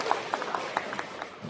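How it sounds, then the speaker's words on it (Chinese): A crosstalk show audience gives thin, scattered applause, with a handful of separate claps spaced irregularly and fairly faint against room noise. "随着这个掌声稀稀拉拉的放来"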